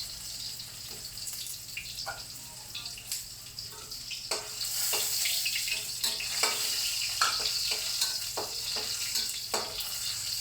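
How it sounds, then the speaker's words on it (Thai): Garlic and shallots frying together in hot oil give a steady close sizzle, with scattered stirring scrapes and clinks over the crackle. "ทอดกระเทียมสุกกับหอม เอาลงพร้อมกันเนาะ"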